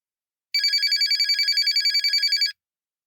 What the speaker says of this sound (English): The sharp ring of her mobile phone brought her out of the ruminations.